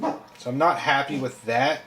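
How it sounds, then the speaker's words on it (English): A dog barks indoors in a short run of yips and woofs, overlapping with a person talking. "If you hear that, that's my dog."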